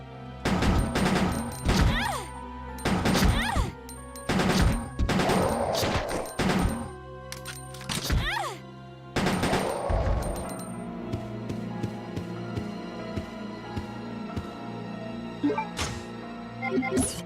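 Bursts of automatic gunfire in Resident Evil Code: Veronica X, several loud rapid volleys separated by short pauses, then a quieter stretch with lingering ambient tones and no talking.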